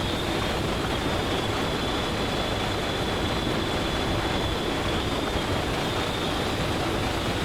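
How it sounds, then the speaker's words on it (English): A simulated LNER V2 steam locomotive running in the Railworks train game produces a continuous loud rolling rumble with an even hiss and a faint high whine, with no distinct chuffs standing out. "I'm pretty sure that a V2 would not die instantly as soon as you shut the regulator"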